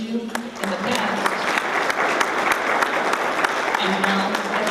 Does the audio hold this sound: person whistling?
no